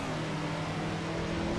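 A diesel car engine in the racing game Assetto Corsa revving steadily, a droning, continuous engine tone held at a constant loud level throughout, with no talking.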